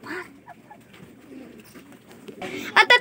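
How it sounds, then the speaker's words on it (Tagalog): Pigeons in a breeders' loft with a laying pair, giving soft intermittent coos and calls, with louder bursts of fluttering or rustling near the end and faint background voices. "Ganda naman na kalapati ni Batang"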